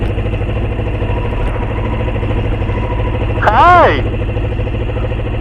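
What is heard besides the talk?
motorcycle engine idling in neutral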